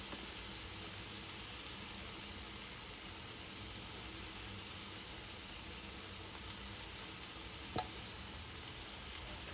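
Chicken gizzard sizzles steadily in a hot pan on medium heat, a constant dense frying hiss that fills the whole stretch at even loudness, with one brief click near the end and no talking.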